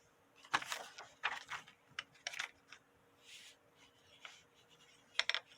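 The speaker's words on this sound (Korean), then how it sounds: "다시 길게 반을 접어주세요" Paper is folded by hand to make an origami mask, giving soft, close crinkles and rustles in short separate bursts with quiet gaps between them.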